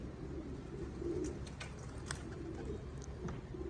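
Racing pigeons coo softly at a loft, their low murmuring calls blending into a steady background hum with a few faint chirps, no talking.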